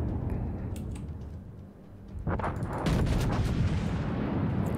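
Main guns of the battleship Scharnhorst firing in World of Warships, a heavy booming salvo that swells midway and rolls on with rumbling echoes, with no talk.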